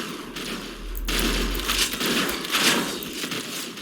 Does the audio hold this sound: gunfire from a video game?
yes